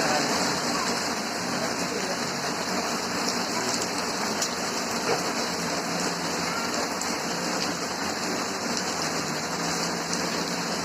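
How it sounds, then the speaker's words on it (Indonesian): Steady rain falls throughout, a dense, even hiss of drops on surfaces with no break in intensity, heard at a constant moderate level with no voices. "Hujan."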